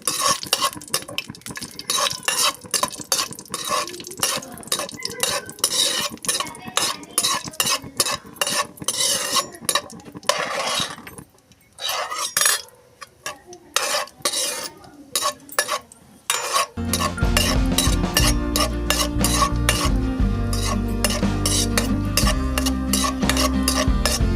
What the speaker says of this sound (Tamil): நம்ம திராட்சையும் முந்திரியும் போட்டு நல்லா மொறுமொறுன்னு வறுத்து எடுத்துடலாம்